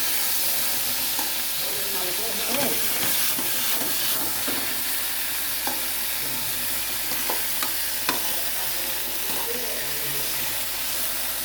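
A potato fry with crushed garlic, chilli powder, coconut and salt is stirred in an oiled pan, giving a steady close sizzle with scraping spoon strokes and soft clinks throughout, and no talk.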